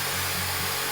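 A handheld hair dryer blows on its hot setting, a steady, close, loud rush of air with a low motor hum, unbroken for the full second.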